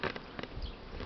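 Honeybees buzzing close at a hive entrance in spring, a steady insect drone with brief louder passes as individual bees fly near.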